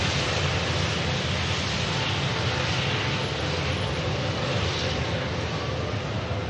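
An EasyJet airliner bound for Geneva departing Manchester Airport, its jet engines a steady, loud, even roar with no voices.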